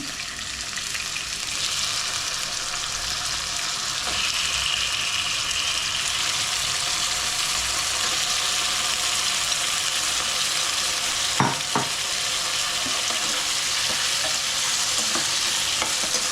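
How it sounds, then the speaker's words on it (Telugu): Potatoes sizzle and fry steadily in a pan with browned onions, a continuous close crackle with brief stirring scrapes and clinks near the middle. "బ్రౌన్ కలర్ వచ్చాక మనం ఆలుగడ్డలు వేస్తున్నాం."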